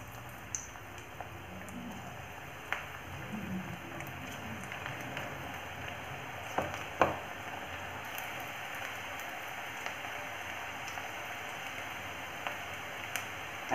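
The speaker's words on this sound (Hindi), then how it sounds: "अब इसमें हम एक एक करके पकौड़ा अपना डालेंगे।" Onion pakoras frying in hot mustard oil make a faint, steady crackling sizzle with a few scattered small pops, quiet and continuous throughout.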